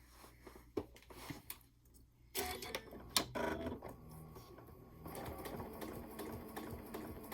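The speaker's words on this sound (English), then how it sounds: "then it'll help you as you're sewing around the corners" A sewing machine stitches binding around the corners of an octagon or hexagon quilt, with quiet, close mechanical whirring and ticking that starts and stops, then runs more steadily toward the end.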